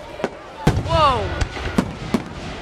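Fireworks burst outdoors in a string of sharp separate bangs, one followed by a whistling sweep, with a voice calling out among them.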